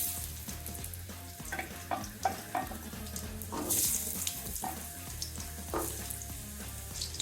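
Potatoes fry with chicken in hot mustard oil, a continuous close sizzle broken by scattered pops and occasional stirring clinks, with no voices.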